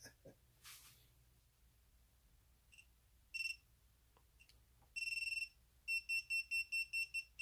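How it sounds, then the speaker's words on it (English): A buzzer fitted to a TinyHawk S micro drone sounds in short electronic beeps, first a single burst, then a longer tone, followed by a rapid series of evenly spaced beeps, loud and close in a quiet room. "So we got the buzzer in."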